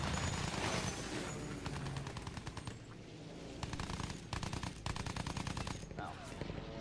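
Rapid bursts of rear-gunner machine gun fire in a WWI aerial combat video game, loud and close, rattling in several long volleys separated by short pauses, with explosive booms mixed in.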